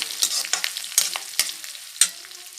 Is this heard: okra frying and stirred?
yes